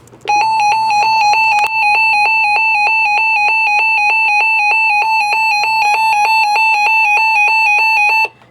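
Recon weather radio alert alarm sounding a steady series of rapid electronic beeps in a fast regular rhythm, close and loud, with the volume stepping up over the course of the alert before it cuts off.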